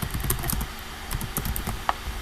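Keys tapped in quick bursts on a computer keyboard while a domain name is entered on a website builder, close and crisp with irregular clicks and no voices.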